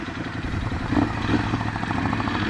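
A 2018 Ducati Scrambler 1100 motorcycle on a demo ride gives a close, continuous engine rumble at low speed, with the steady throb of a twin mixed with wind noise.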